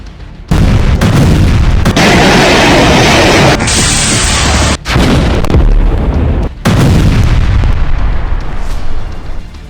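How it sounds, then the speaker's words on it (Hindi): Rocket attacks in Gaza bring loud explosions and artillery fire: a dense, continuous roar of blasts with abrupt cut-offs and restarts, very close and overwhelming, with no talking. "गाजा में बारूदी बवंडर, हमास का रॉकेट रन।"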